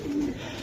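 A single low, soft coo from a Giribaz pigeon, kept at home with a mated pair, lasting well under a second and heard close over a faint room background.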